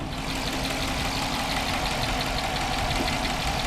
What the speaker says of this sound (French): Le problème du Hemitic, c'est un bruit moteur que l'on entend.